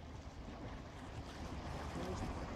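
Sea waves and wind at a dive site, heard as a steady, loud wash of surf and gusting wind noise with no clear breaks.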